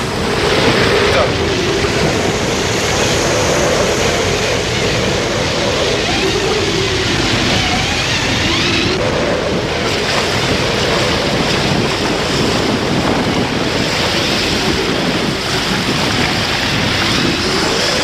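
Heavy seas with waves 10 to 15 metres high during a 1986 transatlantic Hobie Cat catamaran race, a continuous loud roar of surf and wind buffeting the microphone, with faint voices underneath.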